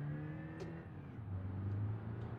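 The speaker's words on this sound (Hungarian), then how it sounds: "jó kis manuális 2000-es TDI motor van benne egyébként" In the BeamNG.drive video game, a car with a manual 2.0 TDI diesel engine idles low and steady, then revs up into a louder, rising drone, with faint whirring overhead and no voices.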